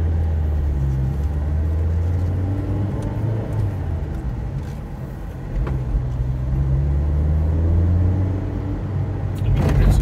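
A 1989 Acura Integra RS driving along, its steady engine drone and road rumble continuous and fairly loud in the cabin, with no talking.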